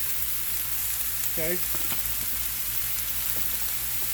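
A vegetable tortilla omelette sautés in a pan with a steady, soft, close sizzle throughout, while a voice speaks a single brief word early on.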